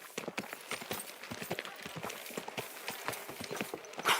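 Steady, rhythmic clip-clop of horse hooves trotting close by, continuous from start to finish without pause, in the video game Kingdom Come: Deliverance 2.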